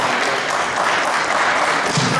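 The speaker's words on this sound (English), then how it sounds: "Let's give Malik a round of applause, please." A loud, sustained round of applause from the audience at a debate, dense and continuous clapping from many people throughout.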